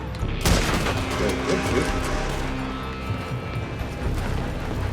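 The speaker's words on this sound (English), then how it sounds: "They're shooting from that building." Gunfire in Red Dead Redemption, with shooters firing from a building: a sharp loud shot near the start, then a dense rattle of repeated shots and booms carrying on throughout, with a voice underneath.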